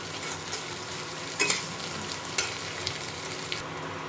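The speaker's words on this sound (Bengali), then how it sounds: "এটা ভালো মতো ভেজে নিতে হবে মশলাটা।" Ginger garlic paste and spices fry in a pan for a taro tikia, a steady close sizzle with occasional stirring scrapes and small pops, no voices.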